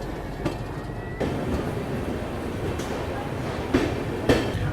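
Onboard the Amrit Bharat Express, a steady rumbling roll of wheels on rails fills the scene, with a few sharp clicks and knocks over the rail joints.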